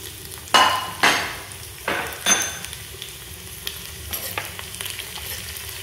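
Cumin seeds and finely chopped garlic sizzle in hot oil in a pan, with a few sharp crackling bursts at first that settle into a softer, steady frying hiss.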